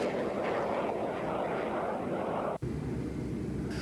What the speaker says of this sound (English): the two airplanes you see flying here, the Soviet MiG-15 and the United States F-86 Sabre